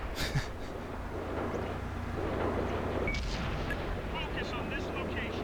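In World of Tanks, an IS-7 heavy tank's gun fires with a sharp blast near the start, followed by rumbling battle ambience and scattered distant game effects.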